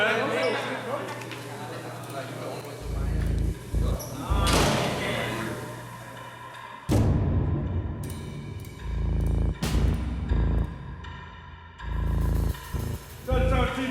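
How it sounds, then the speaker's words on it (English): Heavy cell doors slam shut in a jail, with several loud bangs and thuds across the stretch and people talking between them. "Close the door, man."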